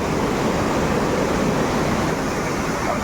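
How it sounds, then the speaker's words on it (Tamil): A forest waterfall roars as a steady, dense wash of falling water, loud and close throughout with no voices. "finally we are coming near by அருவி"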